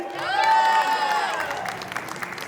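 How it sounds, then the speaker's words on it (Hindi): A wedding haldi crowd applauding and cheering, with a harmonic whistle or vocal tone riding over the start before the clapping continues steadily. "जोरदार तालियां"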